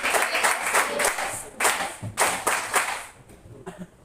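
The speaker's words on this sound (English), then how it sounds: "let's give them a best clap." Classroom of students clapping for presenters, close and loud with uneven bursts of individual claps rising and falling over a few seconds.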